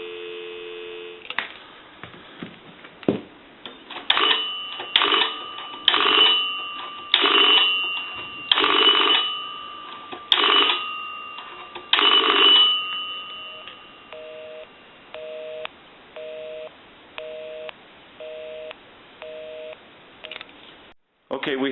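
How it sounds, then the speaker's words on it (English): A repaired A&E three-slot payphone plays a handset dial tone, keypad tones and clicks, then a loud, evenly pulsed busy signal repeating in short beeps, with no talking. "We'll call my number, and it'll be busy. Give you some dial tone."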